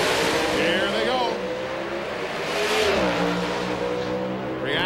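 NHRA Pro Stock drag cars launch side by side down the strip at a 2000 national event, engines roaring loud and close, then rising in pitch with the crowd and announcer noise mixed underneath.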